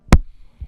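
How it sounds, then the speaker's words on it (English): A microphone capsule is struck once, a single sharp close tap with a dull low thump, followed by faint handling knocks. "For the tail layer, I hit the capsule of my microphone, which sounds like this."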